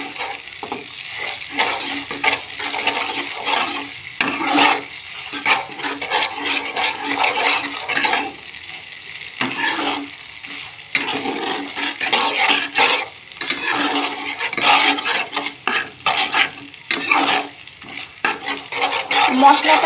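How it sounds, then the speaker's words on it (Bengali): A turmeric spice paste stirred and fried in a pan for a vegetarian dish, steady sizzling broken by repeated scraping strokes of the spoon, continuous and close without voices. "মশলাটা ভালো করে কষে নেব।"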